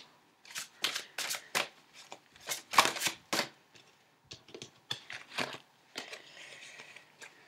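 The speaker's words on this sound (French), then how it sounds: "Alors on va tirer les cartes avec celui-là." Tarot cards are shuffled in a run of quick, crisp riffling bursts separated by short pauses, close and clear with no talking.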